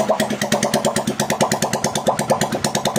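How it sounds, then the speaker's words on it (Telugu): A freshly rebuilt motorcycle engine idles close by with a steady, rapid thumping beat, each firing pulse distinct and even throughout. "ఒకసారి మీరు ఇంజిన్ బీటింగ్ అయితే వినండి"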